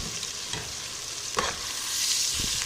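Masala with tomatoes, ginger, garlic and green chilli sizzling in a pan for tikka masala dal, with a steady soft frying hiss and a few scraping stirs of a spoon, fairly quiet and with no voices.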